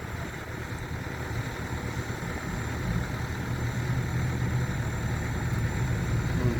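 A tractor engine runs at a dig site in hard soil, a steady low droning rumble that grows slightly louder as it approaches, with no voices.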